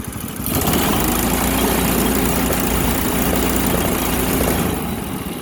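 A Honda GX200 engine on a mini go kart, a former commercial rental kart, idles steadily at close range with a low, even chug and no talking.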